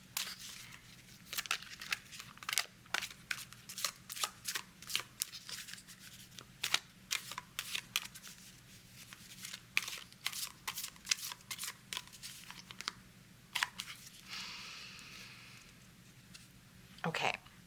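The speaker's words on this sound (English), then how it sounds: "we're going to do a little bit of a shuffle here" Tarot cards are shuffled by hand in a steady run of crisp riffles and flicks that lasts for many seconds, close and fairly quiet, with a faint background hum.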